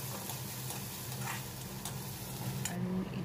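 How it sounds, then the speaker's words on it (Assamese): Onion, ginger and garlic frying in oil on low heat, giving a steady soft sizzle with a few light stirring clicks, close and alone without talk. "আৰু এতিয়া ইয়াতে অকণমান আদা নহৰু থেতালি দিছোঁ, সেইখিনিও অকণমান কেঁচা গোন্ধ যোৱালৈকে ভাজি ল'ম।"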